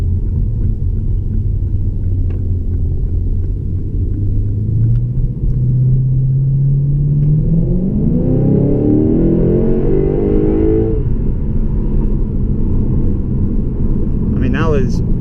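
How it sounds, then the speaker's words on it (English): Lexus RC F engine dropping through gears under hard braking, a loud steady rumble whose pitch climbs in stepped blips as revs rise, heard from inside the car. "But watch how it downshifts when I get on the brakes hard. It's downshifting."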